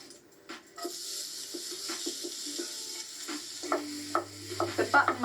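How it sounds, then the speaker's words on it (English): Onion and button mushrooms frying in a pan, a moderate sizzle broken by repeated scraping stirs and a few utensil knocks, with a low hum entering near the end. "I'm going to fry an onion and some mushrooms."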